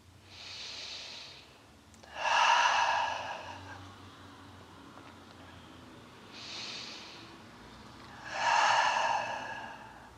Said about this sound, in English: Take 2 deep breaths here.